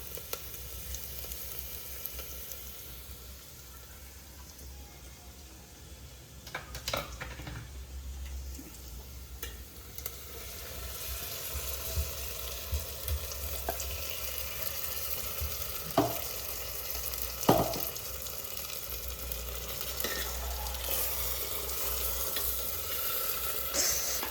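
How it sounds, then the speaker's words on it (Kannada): Freshly ground spice paste goes into a hot pan for buttermilk sambar with sorekai. It sizzles steadily and grows louder, with occasional sharp stirring clicks against the pan. "ಇವಾಗ ರುಬ್ಬಿಟ್ಕೊಂಡಿದ್ದೀನಲ್ಲ ಈ ಖಾರನ ಹಾಕೋಣ"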